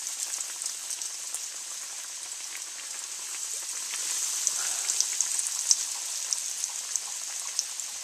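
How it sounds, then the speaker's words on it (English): Papas rellenas deep-frying in oil at about 360 degrees, a steady bright crackling sizzle with scattered sharp pops throughout, close and continuous with no talking. "And off to the deep fryer. Oil is about 360. So I just drop them in slowly."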